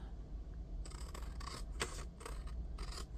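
Scissors snip off paper glue tabs in a quiet room, several crisp close cuts in quick uneven succession, each a short dry rasp.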